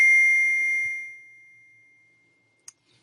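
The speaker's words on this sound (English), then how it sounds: "that was my daughter texting me from school" A phone chimes with an incoming text message notification, a single bright ding ringing out and slowly decaying over about a second, alone in a quiet room with a faint tick afterward.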